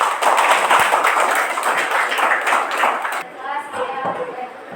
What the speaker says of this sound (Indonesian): Oke, aplaus dulu